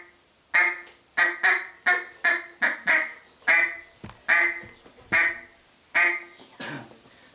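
Ten or so short, soft duck-call quacks imitating a hen mallard, each a separate clear note in an uneven rhythm, close and alone.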